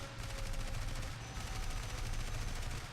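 Continuous rapid gunfire from fighter planes in the War Thunder air combat game, a dense, loud, unbroken stream of machine-gun bursts with a low rumble beneath, filling the whole moment.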